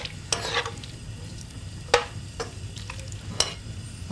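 Salt ling fish is stirred into a pot of heated Ulster-Scots chowder, giving a few soft scraping stirs and light sizzles at close range, separated by quiet pauses.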